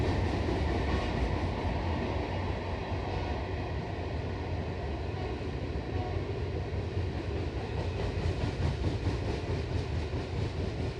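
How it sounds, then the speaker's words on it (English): A loud freight train rumbles past close by, with a steady heavy roar and faint clickety-clack of wagons throughout, no voices. "That's a freight train. They're louder and slower than the Long Island Railroad."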